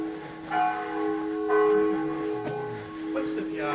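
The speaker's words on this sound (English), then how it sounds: "Those are the bells at 4:30 in the afternoon of the Chiesa di San Pietro e Paolo." Church bells of the Chiesa di San Pietro e Paolo in Cusano Mutri, Campania, ring at 4:30 in the afternoon. The sustained, overlapping tones hold steady throughout, with fresh strikes layered over the lingering hum.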